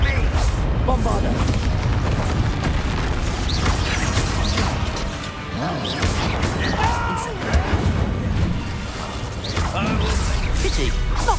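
In Hogwarts Legacy, a Bombarda explosion spell goes off in a dense, loud burst of rumbling blasts and crashing impacts amid ongoing combat noise, with spoken voices mixed in.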